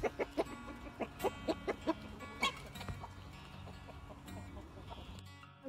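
Young hens cluck in a quick series of close, distinct calls during the first few seconds, then fade into a softer, busier backdrop of more distant fowl.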